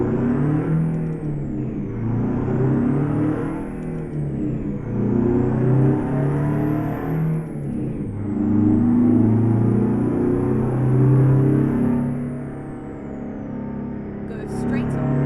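International 9800 CabOver truck engine in American Truck Simulator, droning steadily and rising and falling in pitch through gear changes, loud and close, with a high whine above it.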